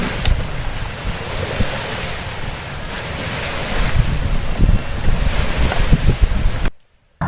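Sea waves washing onto a beach with strong wind buffeting the microphone, a continuous rushing surf roar with low rumbling swells, then a sudden cut to silence.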